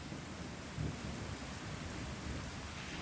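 Thunderstorm in a village in the Modasa area of Gujarat during the monsoon, steady heavy rain hissing with a low rumble of thunder swelling briefly, no voices.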